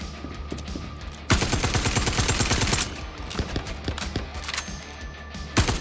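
Rapid automatic gunfire from the Star Citizen video game during a mission firefight, a loud sustained burst of rattling shots followed by scattered single shots and a final sharp report.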